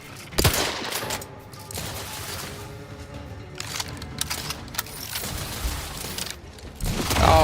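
Bursts of rapid gunfire in The Outer Worlds 2 come in loud, repeated volleys with short pauses between them, ending in a final heavy burst.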